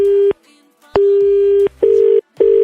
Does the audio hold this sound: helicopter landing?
no